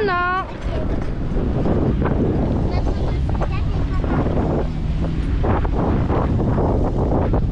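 Strong wind buffets a boat, roaring and gusting across the microphone in a continuous loud rush, with a voice heard briefly at the start and splashes of water beneath.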